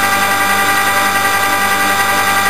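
A handheld electric drill turns a motor in an MPPT controller test setup as its trigger is squeezed, giving a close, continuous motor whine that stays fairly even throughout.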